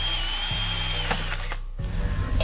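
Power drill boring out a rusted, broken bolt on a 2010 Toyota RAV4, a short burst of whining drill motor that changes pitch, stops, then restarts briefly.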